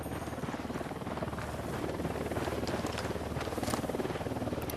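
Steady whirring rotor drone of a helicopter in the video game Ghost Recon Wildlands, continuous and fairly loud across the whole stretch with a slight swell, mixed with wind-like hiss.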